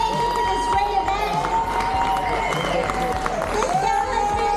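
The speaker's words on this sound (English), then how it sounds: "Let's give Sylvia and Yankee a round of applause." Applause and cheering from a crowd at a motorcycle association event fill the room continuously, with voices talking and shouting mixed in throughout.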